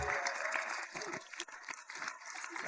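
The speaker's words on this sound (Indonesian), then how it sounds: "Tepuk tangan." Applause from the audience of a comedy sketch show styled as a staged concert, fairly quiet and thin, breaking up toward the end amid faint background noise.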